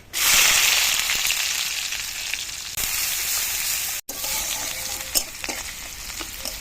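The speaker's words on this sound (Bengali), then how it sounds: "তেল গরম হয়ে গেছে এবার দিয়ে দেবো শুকনো লঙ্কা আর দিয়ে দেবো কালো জিরে দিয়ে দেবো কুচিয়ে রাখা পেঁয়াজ" Dried chilli, nigella seeds and chopped onion dropped into hot mustard oil burst into a loud, bright sizzle that settles after a short break, followed by stirring clicks and scrapes, close up, with no talking.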